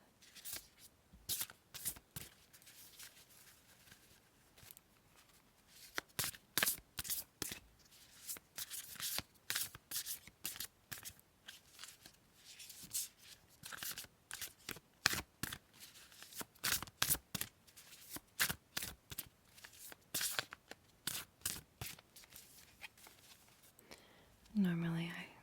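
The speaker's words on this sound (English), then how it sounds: "Normally I shuffle these like a deck of cards, but that's a little too loud." Repeated bursts of cards being shuffled, crisp riffling flutters in uneven clusters, close and fairly soft, with quiet whispering in between.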